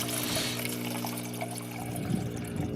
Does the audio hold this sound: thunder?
no